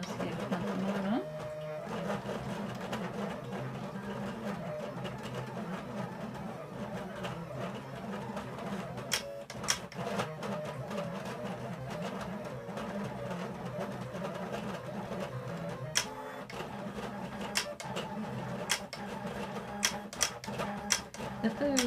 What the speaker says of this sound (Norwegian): så er det bare å sende til Silhouette. Så skal vi se om den skriver pennen med den.